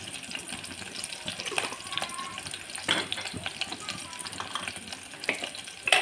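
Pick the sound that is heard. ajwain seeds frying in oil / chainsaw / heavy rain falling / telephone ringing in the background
ajwain seeds frying in oil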